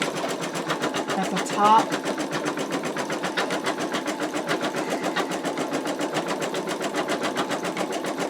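An embroidery machine stitches an outline on an in-the-hoop wallet, its fast even needle rattle running steadily throughout, close and clear, while someone talks briefly over it.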